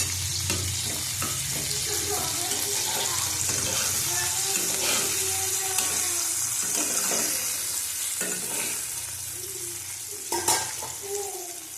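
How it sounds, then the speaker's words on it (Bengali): Chopped onions fry in a pan with black cumin (nigella seeds), a close, continuous sizzle broken by scraping stirs of a utensil, with a faint splash near the end. "পেঁয়াজ কুচি দিলাম বেশি করে। ভালো করে পেঁয়াজটা ভেজে নেব।"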